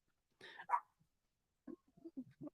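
Dogs barking a few times, a couple of close, sharp barks followed by a run of softer, shorter yips and woofs against an otherwise quiet background.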